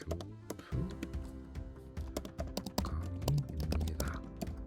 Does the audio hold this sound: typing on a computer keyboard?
yes